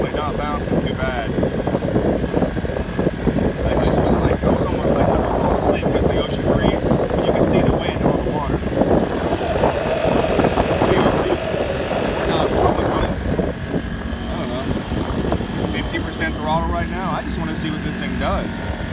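An Expandacraft boat powered by a Honda 35cc engine cruises upstream against a river current through some chop, a steady droning small-engine buzz with wind and water wash throughout, while someone talks over it.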